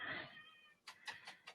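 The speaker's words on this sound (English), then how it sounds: "trying to get the cat out of the room now" Cat meowing indoors: one drawn-out meow followed by a few shorter, broken cries, faint and close, ending in a louder burst.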